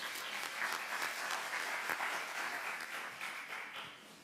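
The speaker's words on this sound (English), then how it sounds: "Let's just applause." Applause for a panelist at an EU Danube Region forum session on water management: a steady, moderately sized audience clapping throughout, heard at a distance and fairly quiet, easing slightly toward the end.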